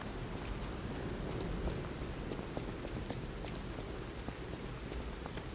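Steady rain falling in the Lies of P game world, a soft continuous patter of drops on surfaces with faint scattered ticks, quiet and even throughout, no voices.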